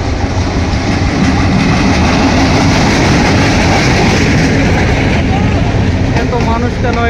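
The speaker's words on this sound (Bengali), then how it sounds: "বিশাল বড় ট্রেন চলে এসেছে" A large passenger train packed with people, some riding on the roof, rumbles past very close and loud, with a steady dense roar of wheels and carriages throughout the whole stretch.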